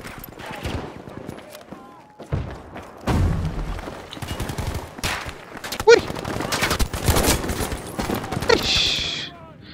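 Gunfire from the Battlefield V video game crackles in bursts of rapid machine-gun fire and scattered shots, loud and close, with thumps and pauses between volleys.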